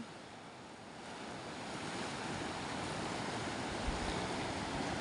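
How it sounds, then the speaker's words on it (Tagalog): Ocean waves wash onto a shallow shore as a steady, broad roar, swelling slightly louder after the first second and continuing without a break, with some wind noise over the microphone and no talk. "Kasi baka sila masatpukan ng alon"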